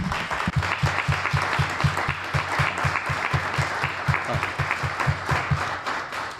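Conference audience applause with a broad wash of clapping and a low, regular rhythmic thump running through it, steady for several seconds.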